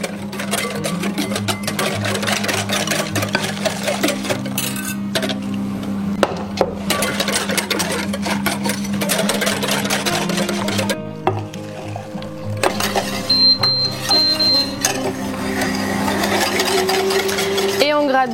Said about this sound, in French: on gratte bien le fond de la casserole en mélangeant pour éviter que ça accroche sur feu moyen